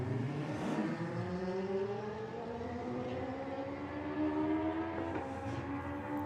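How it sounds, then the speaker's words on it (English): A drag racing car launches off the line at a sportsman nationals event with heavy wheel spin, a loud sustained engine roar rising in pitch and rushing past over several seconds, steady and dense with no speech. "Oh, a load of wheel spin off the line."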